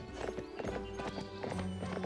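A horse gallops in the Barbie Wild Horse Rescue video game, its rapid clip-clop hoofbeats running steadily and close throughout, with a faint musical tone underneath.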